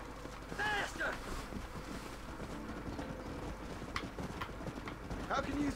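Horse hooves clopping in a Red Dead Redemption gameplay scene, a steady patter under wind and outdoor ambience, with voices speaking at moments.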